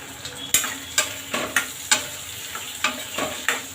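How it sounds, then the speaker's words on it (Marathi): Pumpkin, cluster beans, carrot and potato sauté in a pan for South Indian sambar, with a soft frying sizzle under a regular series of sharp spatula clacks against the pan, roughly every half second. "छान परतून घेऊ आपण"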